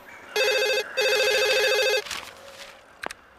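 A telephone rings in two long electronic bursts, loud and close, followed by a short clatter as the handset is picked up; no talking over the rings.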